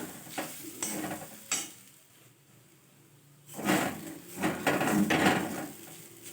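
A utensil scrapes and stirs a kachori filling as it roasts in a pan, with intermittent scraping strokes over a quiet sizzle that grow busier and louder toward the end.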